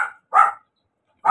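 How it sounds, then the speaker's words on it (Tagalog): A dog gives three short, sharp barks close by, evenly spaced with silence in between. "Tingnan ko muna yung tumatawal na aso na yun."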